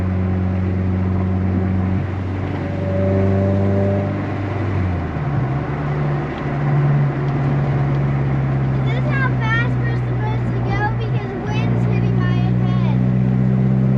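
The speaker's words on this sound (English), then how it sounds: "Windows down at 60. That's about all you're getting for AC." A Honda Civic cruising at about 60 with the windows down, giving a steady low engine and road drone with rushing wind throughout, while people talk over it.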